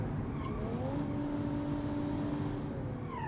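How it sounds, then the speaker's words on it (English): Heavily boosted car engine running at around 26 psi of boost, revving hard and steady with a loud, continuous roar and rising harmonic whine throughout, close and without talk. "This engine is getting hammered with boost and fuel."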